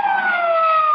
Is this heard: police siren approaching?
yes